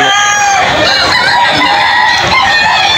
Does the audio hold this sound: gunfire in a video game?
no